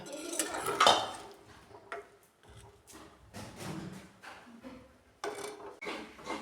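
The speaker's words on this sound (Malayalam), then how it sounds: "നമ്മൾ ഗ്യാസ് ഓഫാക്കി നമുക്കിതെല്ലാം കോരി ഇപ്പുറത്തെ ചട്ടിയിലേക്ക് മാറ്റാം" Cooked cauliflower is scooped from one pot into another pan on a home kitchen stove, with a metal spoon clattering and scraping against the cookware in irregular bursts, loudest early on.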